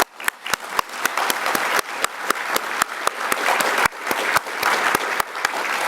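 Audience applause at a sustainability summit morning session, a sustained wash of many hands clapping with sharp individual claps standing out, steady and fairly loud for the whole stretch.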